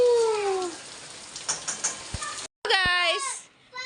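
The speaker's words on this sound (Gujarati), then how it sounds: "બરાબર વરસાદ ચાલુ છે" Heavy rain pours steadily outside a home, a constant broadband hiss beneath high-pitched children's voices and squeals, with a brief silent gap before the voices return.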